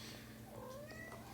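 A kitten gives a soft rising meow, heard once and faint against steady background noise indoors.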